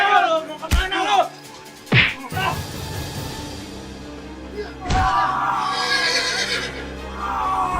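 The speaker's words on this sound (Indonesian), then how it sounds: "Itu kuda gonjrengnya." A horse called the kuda gonjreng whinnies loudly in a few sharp bursts, with shouting voices and a busy background around the calls.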